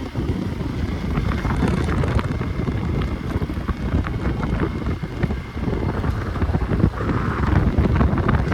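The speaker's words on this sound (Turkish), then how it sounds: "rüzgarın sesini dinleyin." Steady, loud wind buffeting a microphone near a dam during a ride on a Hero Xpulse 200 motorcycle, a continuous low rumble with gusts that swell and ease throughout, with no voices.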